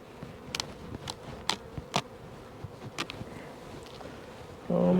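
Bees buzz steadily around a beehive, a continuous insect drone with sharp louder passes as individual bees fly close by, ending in a brief louder rustle.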